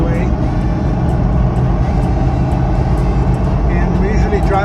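Woodland green original, unrestored Hummer H1 cruising on the freeway in the slow lane, with a loud, steady engine and road rumble throughout and a person talking over it.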